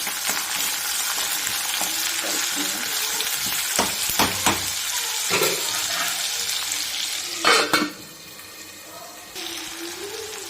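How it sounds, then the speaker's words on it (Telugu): Onions fry with a little salt in a pan for chicken curry, giving a steady crackling sizzle with occasional clatters of a spoon stirring and a louder scrape partway through. "ఆనియన్స్ వేగేటప్పుడు కొంచెం సాల్ట్ వేసుకుంటే బాగా వేగుతాయండి, తొందరగా వేగిపోతాయి."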